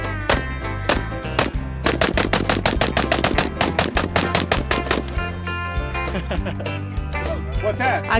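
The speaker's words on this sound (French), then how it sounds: "On va sur un terrain privé pour s'entraîner à tirer." Large-caliber gunfire at a private shooting range near San Francisco: a loud, close, rapid series of sharp shots in repeated bursts lasting throughout, with voices underneath.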